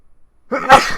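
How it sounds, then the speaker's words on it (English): A single close, loud human sneeze bursting out of near silence, brief and sharp with no talk around it. "Sneezing, hang on."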